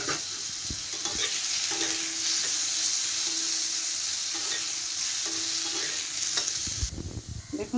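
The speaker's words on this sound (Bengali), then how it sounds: "এখন আমি এই তেলটুকুতে আলুটাও ভেজে নেব।" Potatoes frying in oil left over from frying pointed gourd, a dense close sizzle with occasional scraping stirs, ending with a louder clatter near the end.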